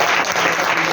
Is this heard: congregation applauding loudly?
yes